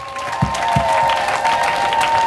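A church audience at a Word of God conference in Mwanza breaks into applause, a dense, sustained clapping that follows a couple of sharper early claps.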